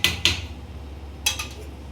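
A metal lid clatters onto a pot of young teasel gourd cooking for a fish and yogurt curry: two quick clanks, then a third ringing clink a second later, close and sharp against a quiet background.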